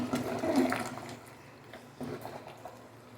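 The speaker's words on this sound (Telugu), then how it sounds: "బాగా ఉడుకుతుంది చూడండి, బుడకలు వస్తున్నాయి" A pot of mutton paya boiling hard, with a close, rushing, watery bubbling that swells at the start, eases, then surges briefly again.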